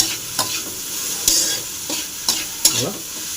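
Okra (lady's finger) stir-fried in a pan, with a continuous sizzle broken by sharp, repeated scraping stirs of a utensil against the pan, close and with no talk.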